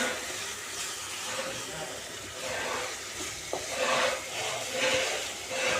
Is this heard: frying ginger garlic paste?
yes